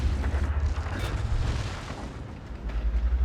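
Tank gun fire and rumbling engine noise from World of Tanks, with a heavy low boom near the start and a deep, continuous growl running beneath the whole stretch.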